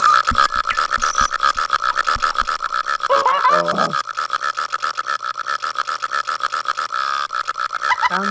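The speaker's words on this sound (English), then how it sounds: "I want to hear a turbo burping." Turbo burp sound effect from the Shrek 2 video game on PS2, a long stream of rapid, gurgling, pitched belches repeating continuously at close range, loud and alone.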